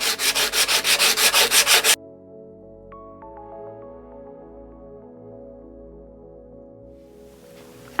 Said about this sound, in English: I'm just gonna take some 80 grit sandpaper and go over it and distress it